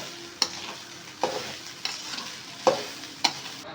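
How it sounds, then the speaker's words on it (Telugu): Rice being stirred with soy sauce, pepper powder and salt in a hot pan on high heat, five sharp scraping strokes of a spoon against the pan over a soft, continuous sizzle. "రైస్ వేసుకొని కలబెట్టుకోవాలి హైలోనే."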